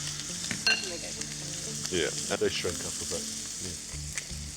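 Duck breast fries in a hot pan with a loud, continuous sizzle and crackling spits of fat while several people talk nearby.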